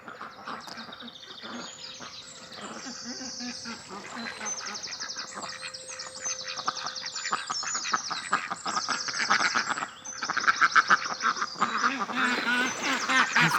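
Ducks on a homestead quacking loudly and repeatedly, several birds calling over one another in nasal bursts that grow busier toward the end, close by and outdoors.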